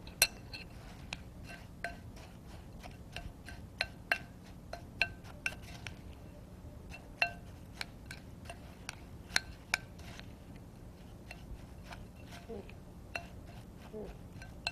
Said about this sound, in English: I just want to mix that all until it's crumbly and get it into our pie plate